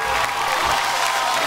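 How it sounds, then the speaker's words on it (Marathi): A studio audience at a Marathi TV game show applauds, with a dense, steady wash of clapping that holds at an even loudness throughout. "एकदा जोरदार टाळ्या होऊन जाऊ दे"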